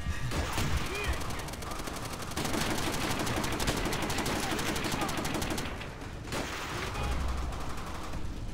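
Rapid automatic gunfire and rifle shots rattle almost nonstop in a Call of Duty: World at War battle, loud and close with brief lulls, while a voice talks underneath.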